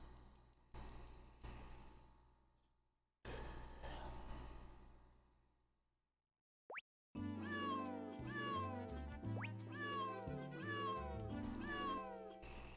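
Cartoonish cat meows from the game Jingle Cats repeat in quick bursts over bright, bouncy game music, with earlier stretches of noisy effects and a brief silent gap before the melody kicks in.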